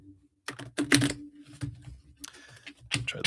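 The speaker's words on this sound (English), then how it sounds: "That was kind of a sucky shuffle." A deck of tarot cards is shuffled up close in quick irregular bursts of riffling and tapping, with short pauses between bursts.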